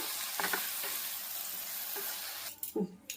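Bottle gourd mixture sizzles in a hot pan as a steady crackling fry, with a few soft stirring scrapes and a louder clatter of the utensil near the end; no voices.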